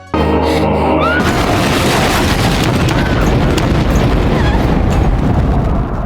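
Grenade explosion in an animated cartoon fight, a loud sustained boom that fills the whole clip after a brief musical opening, with a dense roaring rumble continuing throughout.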